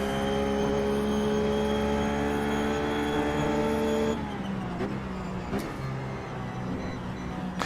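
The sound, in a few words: Ruf GT3 race car engine at Sebring, iRacing video game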